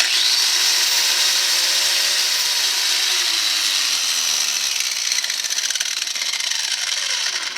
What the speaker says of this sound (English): It's the cheap Chicago Electric Harbor Freight grinder.